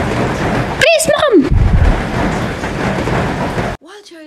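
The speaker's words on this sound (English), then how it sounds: "It is raining. Look at the sky." A thunderstorm with rain fills the scene with loud, dense rushing rain and rumbling, while voices speak and call out over it before a sudden drop near the end.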